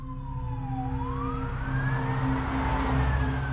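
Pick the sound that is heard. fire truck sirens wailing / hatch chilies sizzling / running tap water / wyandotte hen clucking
fire truck sirens wailing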